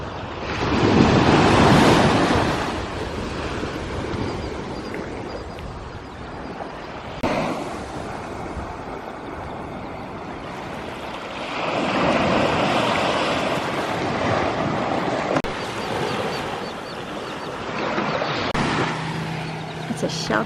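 Ocean waves surge and wash onto a beach on a calm fall morning, rising and falling in broad swells, with wind buffeting the microphone throughout.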